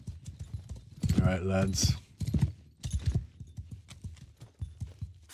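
Horses clip-clopping and moving in a medieval battle video game, a burst of hoof sounds among troops while a man calls out commands.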